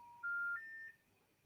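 A short sequence of telephone dialing tones placing a call to a number in Greece, three or four clean beeps stepping in pitch, quiet and close with nothing else around.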